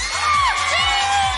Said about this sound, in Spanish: así me gusta, mucho grito